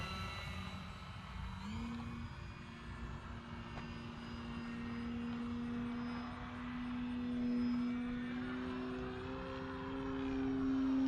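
An FMS Ranger 1800mm RC propeller plane flies overhead, its motor giving a steady, fairly faint whine that slowly rises and falls in pitch as it passes, heard alone without talk.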